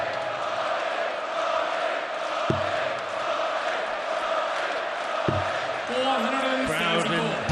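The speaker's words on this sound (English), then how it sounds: "Crowd in boisterous form in the closing stages of this match" Darts crowd at the UK Open final in boisterous form during the closing stages of the match, a loud continuous roar of cheering and chanting from a large arena audience, with a few brief thuds and shouts standing out.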